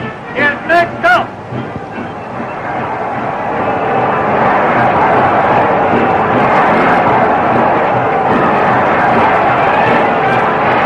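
A brief voice opens, then a contest audience's applause swells into a steady, loud wash of clapping that fills the rest of the stretch.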